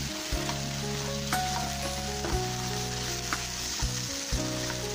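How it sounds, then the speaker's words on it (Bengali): A poppy-seed and coconut paste fries with potatoes and onions in a pan, sending up a constant soft sizzle with occasional stirring clatter beneath a tuneful music backing. "ভালো করে নেড়ে চেড়ে ফ্রাই করে নিতে হবে।"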